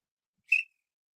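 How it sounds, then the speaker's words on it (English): A single short, sharp referee-style whistle blast, loud and clear against silence, lasting about a fifth of a second during a Manchester United versus Brighton football watch-along. "Where's my whistle?"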